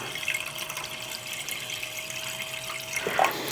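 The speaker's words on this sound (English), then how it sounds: "And we'll fill it with some water for now." Water poured from a tap or container into a terrarium for a carnivorous plant display, a steady close trickle running for a few seconds before a brief splashy burst near the end.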